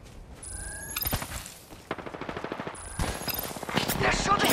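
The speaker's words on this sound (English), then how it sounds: "They're shooting at me!" Gunfire in the Apex Legends video game: loud rapid bursts of automatic weapon fire, several volleys close together with sharp cracks and rattling impacts, building in density toward the end.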